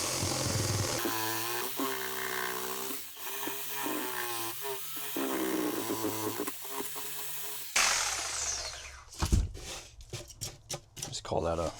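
A power tool shaves wood from the side of a floor joist during a tub-to-shower drain conversion, giving a loud, whirring, saw-like buzz in close bursts. Speech is heard over parts of it.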